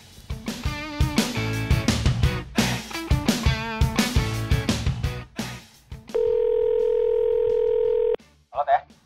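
A telephone dial tone sounds during a call to a friend, a steady held tone lasting about two seconds after a stretch of music, followed by a short burst of another sound.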